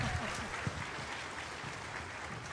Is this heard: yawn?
no